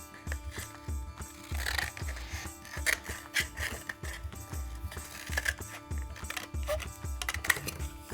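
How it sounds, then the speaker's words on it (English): Scissors cut a cardboard toilet paper tube in half, making a close series of irregular crunching snips and clicks with no talking. "I'm going to take my 1 toilet paper tube and I'm going to cut it in half."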